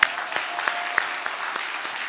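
A church seminar audience claps in distinct, evenly spaced strikes roughly three times per second, each clap sharp and near against a low background murmur.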